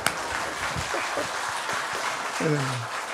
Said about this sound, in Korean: 박수 치셔도 좋습니다.